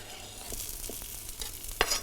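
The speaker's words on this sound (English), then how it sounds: "So we will just drop those in with the onions." Red peppers dropped into onions frying in a pan, a soft continuous sizzle with a few light taps and one sharper clatter near the end.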